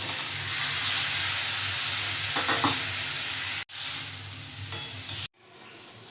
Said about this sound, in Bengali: এবার ঝোলটা ফুটে যাবার পর আমি এই ভাজা মাছগুলো দিয়ে দিলাম।